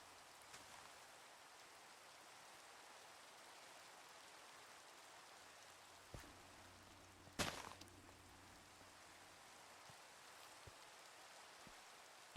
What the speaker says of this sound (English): And of course it starts raining.